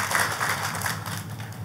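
A church congregation applauds together in a broad, steady wash of clapping that holds at the same level throughout and is fairly loud and full. No voices stand out above it.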